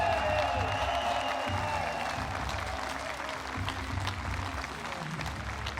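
Crowd applause rings out at a compound archery World Cup final in Odense, steady clapping and cheering that fades slightly over a few seconds while a commentator speaks over it.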